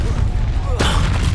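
A spell blast in Hogwarts Legacy lands as a sudden loud boom over a constant rumble of battle noise. A bright, sweeping whoosh leads into the hit.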